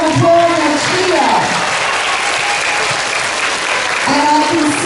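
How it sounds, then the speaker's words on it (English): School assembly audience bursts into loud applause and cheering, dense clapping from a crowd with shouts mixed in, while a presenter's voice is heard at the start and again near the end. "let's give it a big round of applause and a cheer"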